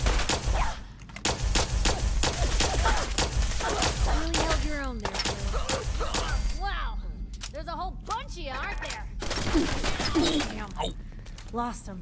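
Cannons on a castle in the video game Fallout 4 fire in repeated heavy volleys with gunfire crackle, loud and dense throughout, while a voice talks over the action.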